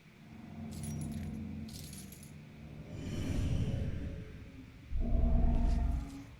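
Keys jangle in the PS4 game Murdered: Soul Suspect in several bursts of metallic clinking over a low rumble, with one louder clattering shake near the end and no talk.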